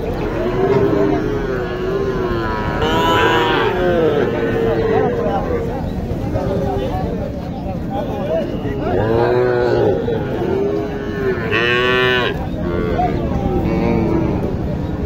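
Cattle low repeatedly at a busy rural livestock market in Naogaon, with several loud, drawn-out moos close by amid crowd babble and people talking.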